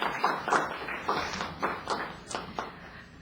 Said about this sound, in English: Okay, gentle applause.